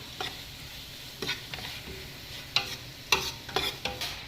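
Chicken roast is stirred in a pan, with soft scraping strokes and a faint sizzle underneath, a few sharper clinks near the end, and no talk.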